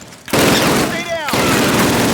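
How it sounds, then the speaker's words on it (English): Machine guns firing on a training course in Call of Duty (2003), a loud, sustained burst of rapid gunfire lasting about a second, with a brief whine riding over the clatter. "Sergeant, fire up those machine guns!"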